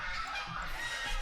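A goose honks in a bird park, a brief faint call against outdoor background noise.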